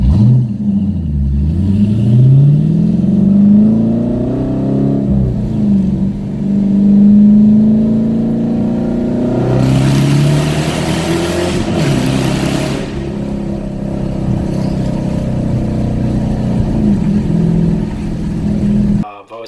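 A 2018 Dodge Challenger R/T Shaker with an MFR1 exhaust revs repeatedly, a loud, deep engine note rising and falling in several pulls, with a voice talking over parts of it.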